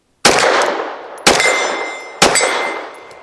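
Three sharp metallic clangs about a second apart, each ringing out and fading, as a Checkmate magazine is released and drops free from a Bersa M2XI pistol; close and loud with no talking.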